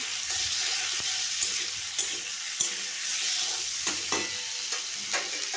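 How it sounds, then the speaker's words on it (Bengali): Chopped tomatoes frying in hot oil with tempering spices for a village-style tomato chutney, a steady close sizzle with occasional spatula taps and stirring scrapes; no talking. "তেলটা আমার গরম হয়ে গেছিল, ফোড়নটা দিয়ে দিলাম। ফোড়ন থেকে সুন্দর গন্ধ উঠতে শুরু করলে আমি কেটে রাখা টমেটোগুলো দিয়ে দিলাম।"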